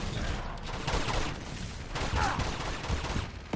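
Gunfire from a video game shootout, a dense, continuous burst of overlapping shots and impacts filling the whole stretch at a steady loud level.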